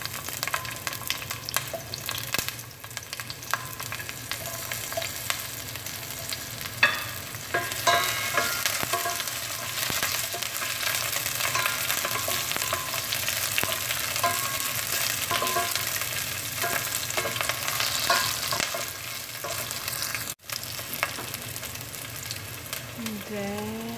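Onions frying and being stirred in a pan for sweet and sour chicken, a steady loud sizzle with scraping stir strokes running throughout.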